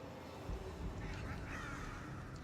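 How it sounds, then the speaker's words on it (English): Crows caw in the Darksiders II video game, a rough, raspy burst of calls that swells midway over dense, noisy game ambience. "Crows, come forth from the body."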